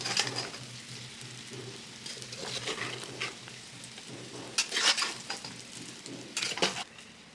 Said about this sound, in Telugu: ఇలా చూపించే విధంగా బాగా మిక్స్ చేసుకుందాం.